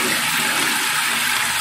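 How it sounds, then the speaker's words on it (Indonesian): Water from a tap gushes steadily over a small portable mini mop being rinsed, a close, continuous splashing rush with no talk. "untuk membersihkannya, kita tinggal nyalakan keran. Habis itu kita tinggal siram seperti ini."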